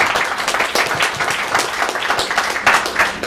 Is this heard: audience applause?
yes